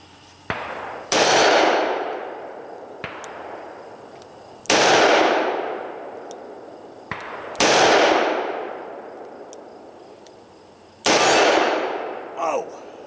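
A Smith & Wesson 340 SC five-shot revolver fires .357 Magnum rounds, four loud, sharp reports at uneven intervals with long ringing decays, plus a couple of fainter clicks and clanks between shots.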